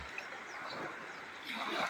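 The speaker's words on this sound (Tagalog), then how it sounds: "Malakas pa rin ang alon." Sea waves on a beach at San Juan, Batangas wash and splash in a soft, continuous surge that swells toward the end, heard faintly from a short distance.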